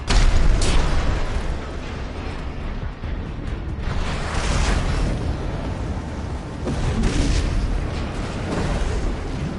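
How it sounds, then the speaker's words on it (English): Repeated heavy booming blasts with rumbling tails from a grenade cannon in the video game Armored Core 6, explosions arriving in irregular bursts one after another. "this grenade cannon could do some good damage"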